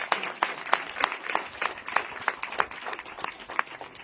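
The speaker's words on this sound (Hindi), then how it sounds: "तालियां बजा दो" An audience claps in a loose, steady rhythm, with individual claps standing out over a continuous patter of applause.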